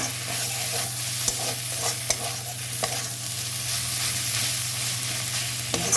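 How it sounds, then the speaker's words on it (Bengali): Dried fish (shutki) fries in oil over low heat, a continuous close sizzle broken by light stirring clicks and scrapes of a spatula, with a steady hum underneath and no talking. "আঁচ কমিয়ে একটু কমানিয়ে ভেজে নিই"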